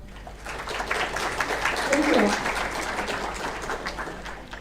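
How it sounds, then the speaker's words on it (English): Audience applause in a large hall at a conference opening, a steady dense wash of clapping throughout with a brief spoken thanks over it. "So big applause to the OC and enjoy it."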